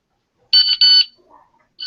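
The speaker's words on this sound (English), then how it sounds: "And it sounds like an egg timer when you're done, so it's not too obtrusive." A browser tab timer goes off with an electronic beep like an egg timer, two loud, bright tones close together, then a faint blip and the start of a third beep.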